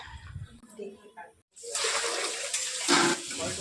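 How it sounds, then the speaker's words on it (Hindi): Tap water runs and splashes while vegetables are rinsed in a kitchen, several washes in a row; brief knocks and clatter come first, then steady rushing water with louder splashes near the end. "फिर पानी भर भर के सब सब्जी को बहुत अच्छे से, एक बार, दो बार, तीन बार, बहुत अच्छे से सब्जी को मैं धोना चालू कर दी"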